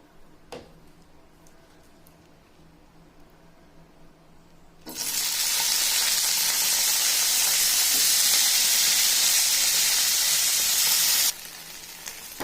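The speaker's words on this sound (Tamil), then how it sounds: "கொஞ்சமாக எண்ணெய் விட்டு கத்திரிக்காய் போட்டு நல்லா வதக்கிக்கலாம்." Eggplant sautés in a little oil in a pan. After a few seconds of near quiet, a loud, bright, hissing sizzle starts abruptly, holds steady for about six seconds, then drops back to a low background.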